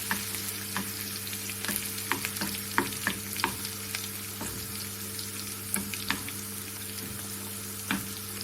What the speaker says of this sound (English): cook them until the garlic's gonna be brown.